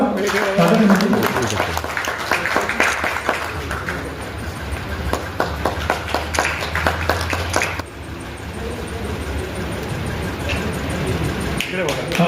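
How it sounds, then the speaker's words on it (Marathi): Audience at a state-level award ceremony and poetry gathering claps in a sustained burst of applause, fairly loud and close, with voices talking over it. "सर्वांनी टाळ्या वाजवा."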